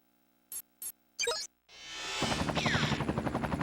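A video game helicopter in an options menu, preceded by a few short menu clicks, then rotor noise swells into a loud steady chopping thump that continues to the end, with no talk.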